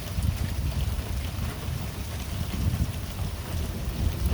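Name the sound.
strong wind picking up during tornado storm, Central Texas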